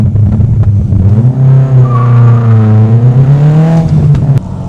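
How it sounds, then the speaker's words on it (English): A VW Golf MK2 GTI with a swapped-in Audi S3 turbo engine pulls hard in first gear. The loud, close engine tone sweeps upward steadily and then cuts off near the end. "Are we ready for a nice little first gear pull?"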